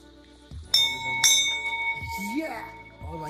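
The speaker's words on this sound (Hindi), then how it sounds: "यहाँ से दोनों ही तरफ घंटियां हैं भाई, और सामने पर वहां मंदिर" Temple bells on a high mountain pedal trek in the Himalayas ring in a few bright metallic strikes near the start, their tones lingering over wind and movement noise while someone talks nearby.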